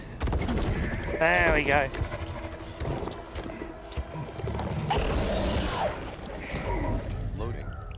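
The opening sequence of the Gears 5 video game plays loudly, a dense mix of mechanical clanks, ratcheting and booming impacts with rising tones and whooshes. A voice says a few words over it.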